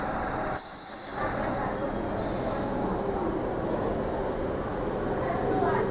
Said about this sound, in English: here it comes. And there it is, Sydney Vintage Electric Train.